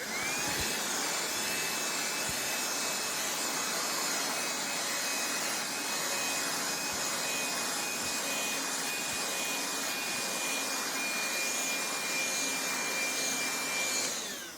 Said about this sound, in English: Let's go ahead, let's try to vacuum some of that up.